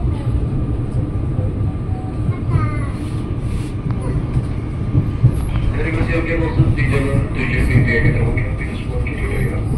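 A KRL commuter train rolls into Bekasi station with a continuous low rumble and rattle of cars. A passenger talks nearby over the rolling noise, and higher squeals and tones rise toward the end.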